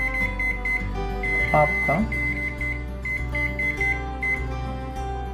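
A microwave oven set to combined microwave and convection mode at 200 degrees gives a series of steady, evenly spaced beeps once preheating finishes, close by, while a person talks over it.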